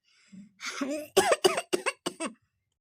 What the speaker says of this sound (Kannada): ಕೆಮ್ಮು ಬೇರೆ ಬಂದತಿ